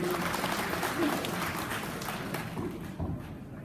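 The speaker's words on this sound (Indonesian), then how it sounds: "Kita aplaus untuk Pak Nasruddin." An audience claps at a formal gathering, a steady close applause that runs through the whole clip and eases slightly toward the end.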